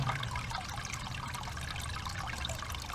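Water trickles steadily from an aquaponics bell siphon in an ebb and flow tray down into a sump, a continuous close splashing dribble with no voices.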